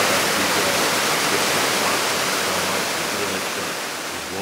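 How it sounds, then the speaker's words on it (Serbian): A Bigar waterfall roars in a steady, dense rush of falling water, loud and close, continuing without pause and easing slightly toward the end. "Evo, ovo su oni vodopadi"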